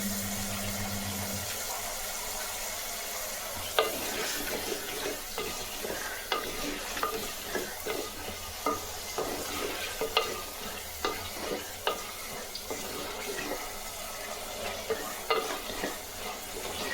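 Pieces of taro root are tipped into a pan of sautéed onions and fry with a steady sizzle for the rest of the clip. Repeated spoon scrapes and clinks of stirring come through the hiss, and there is no speech.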